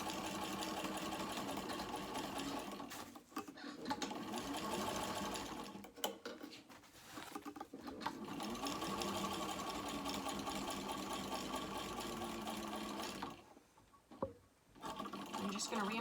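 A sewing machine stitches a seam on a small crossbody bag, with a steady, continuous mechanical whir and rapid needle chatter that stops briefly a few times before it resumes.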